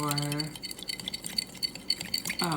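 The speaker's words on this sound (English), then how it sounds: "I'm going to use my fork here to mix up everything except for our olive oil." A fork whisks lemon vinaigrette ingredients in a bowl, leaving the olive oil aside, giving rapid light clinking and scraping strokes up close. A voice briefly sounds at the start and end.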